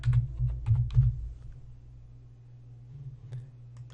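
Typing on a computer keyboard while entering a search in PowerPoint: a quick cluster of close key taps at first, then a pause and a few more light taps over a low steady hum.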